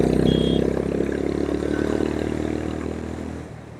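A Honda CB350 RS motorcycle pulls hard in third gear to overtake, its engine note loud and throbbing close up with mechanical clatter, then easing off near the end.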